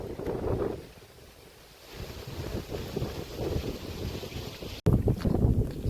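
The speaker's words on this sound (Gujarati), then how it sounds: "મસ્ત તાજો હવાડો ફર્યો છે" Fresh breeze blows across a hilltop village temple site, buffeting the microphone in uneven gusts that ease briefly, then return stronger after a short cut; no speech.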